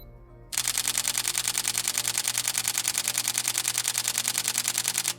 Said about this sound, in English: So I'm going to go ahead and get focus and then hold down the shutter.